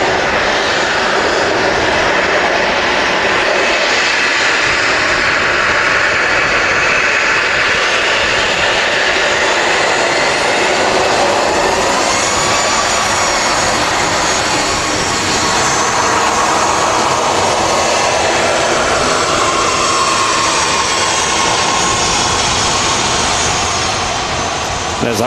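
A Boeing 737-800 jet at Manchester Airport gives a loud, sustained engine roar that fills the whole stretch, steady and close, with no break in the noise.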